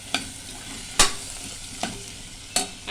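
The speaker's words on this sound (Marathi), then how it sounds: "ही हिरवीगार कोथिंबीर टाकूया सगळ्या भाज्या परतून घेऊया व्यवस्थित" Vegetables and fresh coriander are stirred in a hot pan for masala rice, with four distinct scraping strokes of a spoon over a soft, steady sizzle.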